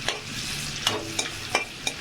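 Bay leaves and dried red chillies frying in melted butter for butter chicken biryani, a steady close sizzle marked by a handful of quick spoon scrapes against the pan, with no talk.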